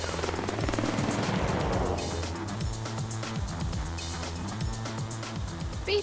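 A search and rescue helicopter flies nearby, its rotor beating in a steady, rapid chop under a continuous turbine whine, loud and constant throughout.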